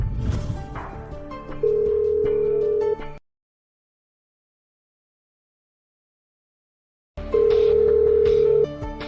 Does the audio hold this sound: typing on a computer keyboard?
no